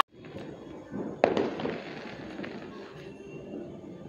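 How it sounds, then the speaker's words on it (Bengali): Firecrackers go off on a rooftop during Kali Puja, one sharp pop followed by a fizzing, crackling burn and scattered sputters at moderate distance, with a faint voice in the background. "চলো শিলা বাজি ফাটাবো এখন ইয়েতে গিয়ে, ছাদে গিয়ে"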